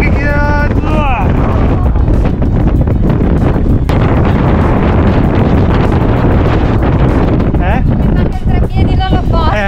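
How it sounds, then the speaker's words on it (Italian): Strong wind roars and buffets the microphone continuously, loud and rough, with people talking faintly beneath it. "E c'è un vento pauroso."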